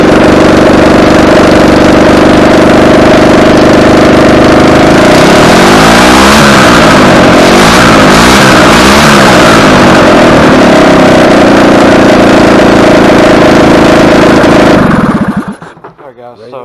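A golf cart's small engine, an EZGO, runs loud and close with a steady drone, its pitch wavering in the middle, before it runs out of gas, sputters and cuts out near the end.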